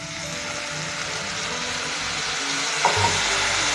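Steady sizzling and frying of a cumin-coriander spice masala in a pan, close and continuous, with a small splash as a little water is added near the end.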